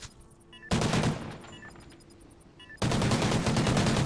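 Loud bursts of rapid automatic gunfire in a video game, one short volley near the start and a sustained barrage at the end, with quieter game ambience between them and no talking.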